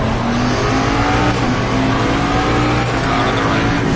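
A race car engine in Assetto Corsa Competizione roars loud and continuous, downshifting into first gear for a corner, and its pitch changes as the revs drop and climb.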